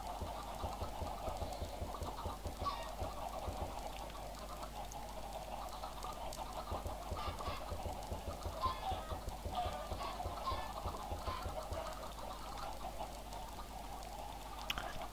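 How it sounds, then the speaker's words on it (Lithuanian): Chickens cluck repeatedly in the background of a video game over a steady low hum, a busy, continuous stream of clucks with occasional louder calls. "Taip, užknisa šitas garsas tų vištų."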